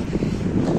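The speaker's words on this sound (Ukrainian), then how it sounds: "Як так обжигаючи шмарить нас вітер" Strong sea wind in Odesa buffets the microphone with a steady, loud, low roar that rumbles without a break for the whole moment, and no voices can be heard.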